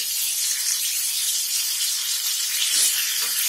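Chicken sizzles in hot oil while being fried for a Punjabi-style chicken gravy, a steady, close, even hiss that runs throughout with no pauses.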